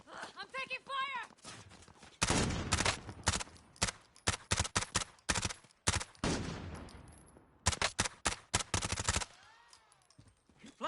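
Rapid bursts of gunfire from a Modern Warfare video game, machine-gun rattles and single shots in clustered volleys with short gaps, mixed with game voice callouts.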